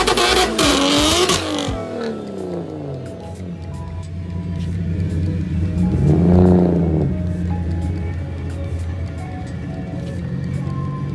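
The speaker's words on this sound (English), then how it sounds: "I tried dropping the RPM on the following launches." A 750 hp single-turbo BMW 135i launches and accelerates at a drag strip, a loud engine roar climbing in pitch through the gears, then sweeping past and fading into a steady distant drone.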